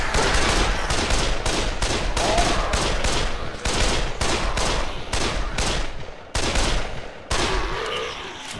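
Rapid gunfire from the video game Dead Island, a dense, loud fusillade of repeated shots with only a couple of short gaps, close and continuous throughout.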